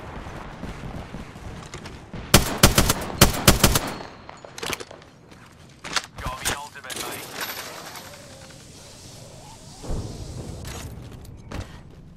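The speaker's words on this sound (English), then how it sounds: "Stand back, knuckle cluster's firing." A knuckle cluster weapon firing in a multiplayer shooter game, sounding as loud rapid bursts of bangs and cracks that come in clusters, with scattered voices and game noise in between.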